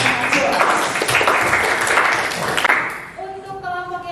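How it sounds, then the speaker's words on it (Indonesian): A classroom of students claps together after two groups finish presenting, a dense burst of applause for about three seconds before it stops and a voice begins speaking. "Sekali lagi beri tepuk tangan untuk 2 kelompok yang sudah berpresentasi."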